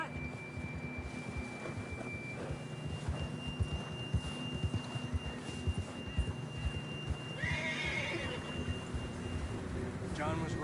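A horse in the Red Dead Redemption 2 video game gives a bright whinny near the end, above a low rumble of hooves and ambient game sound, with a steady tone running through.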